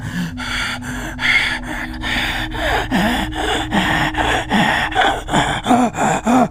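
A voice imitates someone suddenly breathing fast, producing a run of about a dozen sharp, rhythmic gasping breaths that grow quicker and more forceful. The breaths are loud, close and come without any speech.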